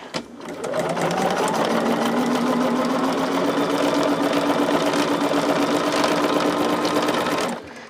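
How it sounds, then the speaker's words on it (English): Sewing machine stitching a fusible grid pouch in one long continuous run of steady, fast needle hum, close and loud, starting and stopping cleanly. "y'all see that I'm just sewing and trimming, sewing and trimming"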